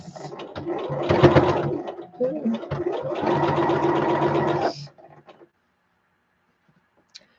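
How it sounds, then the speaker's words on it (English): Sewing machine stitching a lining onto fabric, running in two bursts of steady rapid whirring with a short pause between, then stopping into near silence with a faint click at the end. "Okay, so I'm attempting to sew the lining to this."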